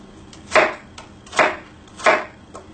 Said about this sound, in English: we're going to make our small little cuts